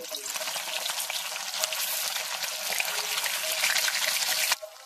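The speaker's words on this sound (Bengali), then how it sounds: "কড়াইতে সরিষার তেল দিয়ে আমি হালকা করে পনিরগুলোকে ভেজে নেব।" Paneer pieces fry in mustard oil in a wok with a loud, bright, crackling sizzle heard up close, cutting off abruptly near the end.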